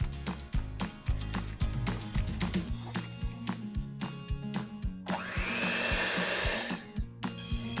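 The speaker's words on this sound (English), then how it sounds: "add the sifted flour and baking soda mixture into the batter with the coffee and beat it until smooth" An electric hand mixer beats coffee mocha loaf cake batter with sifted flour and baking soda, a steady motor whir broken by repeated clunks and scrapes of the beaters against the bowl, with a brighter whine near the end.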